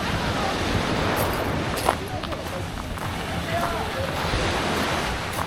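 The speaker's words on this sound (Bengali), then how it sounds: "এখন চেবুদি আইল্যান্ডে বিচে আছি বিচটা দেখুন খুবই সুন্দর" Surf rolls steadily onto a beach on Jebudo Island, South Korea, a continuous wash of breaking waves mixed with wind noise, with a voice faintly present.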